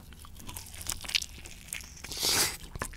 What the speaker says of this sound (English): listen to this crunch, y'all. Listen to this crunch.